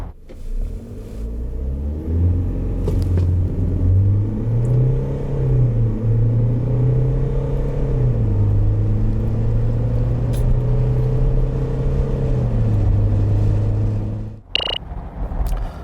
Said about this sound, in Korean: 여기서 이전 렉스턴의 발진 가속 성능 한번 볼까요?